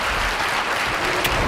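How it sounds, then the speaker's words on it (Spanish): Audience applause welcoming a speaker onto the stage at a motivational talk event in Mexico, a steady dense wash of clapping that fills the whole moment without a break. "un aplauso, por favor"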